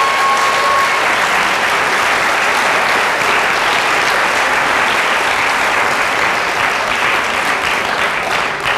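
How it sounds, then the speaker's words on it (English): Sustained, steady applause from a large audience at a Kenyon College evening event, honoring Peter as he turns 70; dense clapping holds at full volume for several seconds without speech. "Everyone give Peter a round of applause."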